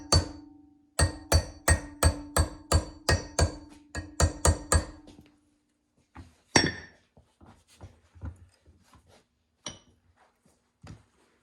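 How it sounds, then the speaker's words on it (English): A hammer strikes a metal bungee cord hook about a dozen times in a quick, even run of sharp, ringing taps, followed by a sparser scatter of lighter knocks and clinks, close and otherwise quiet. "just get the hammer"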